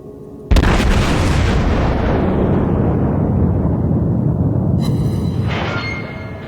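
A single huge boom from Wyoming-class battleship guns in World of Warships bursts out suddenly, then a long rolling rumble decays, with a second sharper crack near the end.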